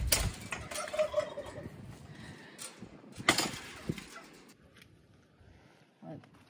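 A tom turkey named Blizzard gobbles in a backyard flock, with repeated bursts of gobbling rising over bird chatter and background voices, then a quieter trailing stretch.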